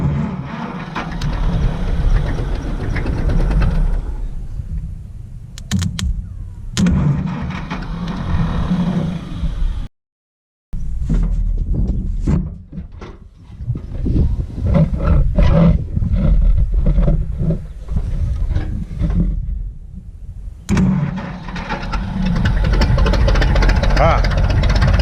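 Gas engine of a 1952 McCormick Super WD-6 tractor fires up and runs with a loud, rough roar, briefly cutting out once before catching again and continuing steadily, with someone talking over it.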